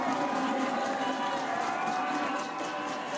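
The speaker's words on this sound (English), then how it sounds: "Listen to the crowd on top of the Betex." A large crowd roars and cheers without pause along the summit finish of Tour de France 2016 stage 19 at Saint-Gervais Mont Blanc, a dense, distant-sounding wall of noise under commentary.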